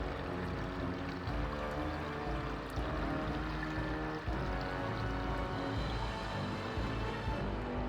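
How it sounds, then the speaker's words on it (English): A pond with a waterfall in an EverQuest II player home gives a steady, close rush of pouring, splashing water that runs unbroken throughout, with no voices over it. "here you got a pond with waterfall"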